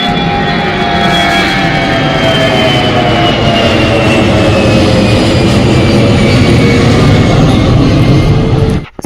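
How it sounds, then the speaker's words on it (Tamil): Low-flying airplane passing close overhead in Chennai, a loud sustained jet engine roar with a descending whine that cuts off abruptly at the end. "ஃப்ளைட் வந்து க்ராஸ் பண்ண ஆரம்பிச்சிருச்சு"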